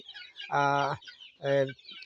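Two loud, close calls from a hen of an improved native breed, with a strained, drawn-out tone, separated by a short pause, over faint background noise.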